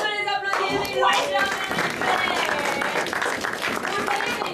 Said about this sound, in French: magnifique, on peut les applaudir